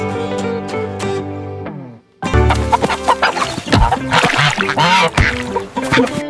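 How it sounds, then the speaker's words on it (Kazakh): Cartoon farm hens and a rooster clucking and crowing in a lively animated barnyard scene, with busy overlapping bird calls and background music, loud and close after a brief pause. "Тауықтар мен әтеш."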